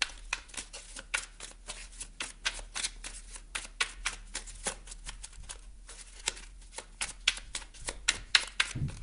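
Oracle cards being shuffled by hand, a dense run of crisp riffling flicks and slaps repeating in quick bursts throughout, close and fairly quiet with no voice.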